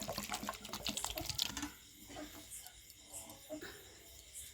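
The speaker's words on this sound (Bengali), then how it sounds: "আলুর মধ্যে একটু জল দিয়ে দিলাম।" Water pours from a tap onto peeled potatoes being prepared for homemade chips, a splashing rush that fades into softer trickles and drips, heard close with no talk.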